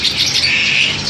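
A local Hong Kong mynah (jalak) gives a short, bright, high call, loud and close, lasting about a second.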